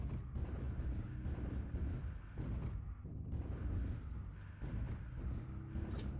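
Long-range missile volleys and explosions in a mech combat game, launched from a mech carrying 480 LRM missiles: a dense, continuous barrage of loud booming rumbles and bursts that rolls on without a break.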